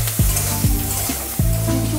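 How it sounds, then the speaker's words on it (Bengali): Potatoes and eggplant frying in a pan with salt and turmeric, a loud continuous sizzle with several clanking strokes of a spatula as the pieces are turned, close up and with no voices. "আমি আলু আর বেগুনটাকে ভালো করে ভেজে নেব"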